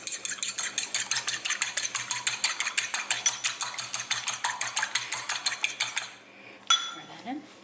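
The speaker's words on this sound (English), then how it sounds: "Whisk that up." A whisk beats an egg in a bowl for a crab cake mix, a fast steady run of sharp clinks and scrapes against the bowl for about six seconds, close and loud, then a brief pause and a few softer stirring knocks.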